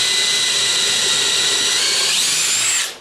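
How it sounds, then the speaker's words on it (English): A power drill whines steadily at high pitch while boring pilot holes in a homemade coal forge build, its tone rising slightly before the motor cuts off and spins down at the end. "we'll drill some pilot holes"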